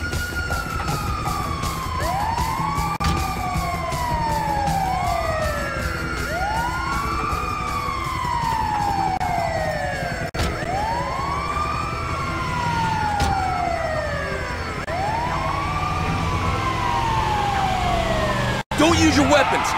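Ambulance siren in the video game GTA 5, a loud continuous wailing tone sweeping up and down in repeated cycles over engine and road noise, close and dominant throughout.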